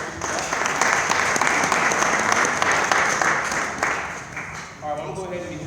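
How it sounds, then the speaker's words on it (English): Keynote audience at a sorority chapter end-of-year event breaking into sustained applause that fades after about four seconds, followed by a short stretch of talk. "So give them a round of applause for that."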